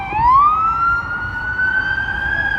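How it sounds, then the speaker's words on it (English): A police truck siren in Chicago near the riverwalk, a loud wailing tone rising and holding steady, over rumbling traffic and city background noise. "Here we got some sirens here."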